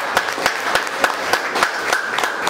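An audience at a leaders' training session claps together, a steady, moderately loud patter of many hands with no voices.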